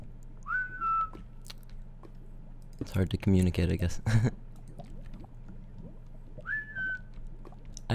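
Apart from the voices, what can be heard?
skeleton whistling sound in a Minecraft video game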